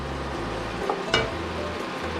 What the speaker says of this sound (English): So I'm gonna saute until the vegetable is translucent